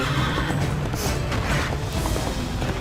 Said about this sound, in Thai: เราต้องขี่ม้าหนีไปเรื่อยๆ